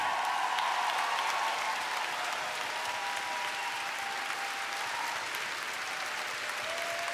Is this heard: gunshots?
no